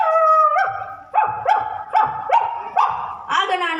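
A person's voice mimicking an angry dog, a growl building into a run of five or six sharp barks, loud and close, with the voice tone audible throughout.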